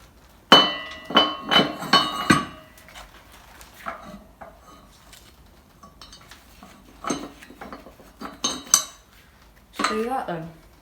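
Metallic clanks and scraping as a tyre lever pries a tyre off a rusted rim from a 1970 Bolens 1253, several sharp close strikes in a cluster, then quieter fiddling and a final burst of clatter.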